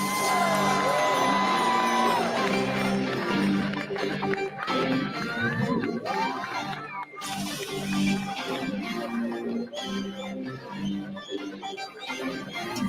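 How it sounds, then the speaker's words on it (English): Large audience at the Miss World 2025 grand finale cheering, whooping and clapping for a humanitarian award winner, a loud dense crowd roar with music and amplified voices mixed in. "keep that cheer going. Let's put our hands together. Give a huge round of applause"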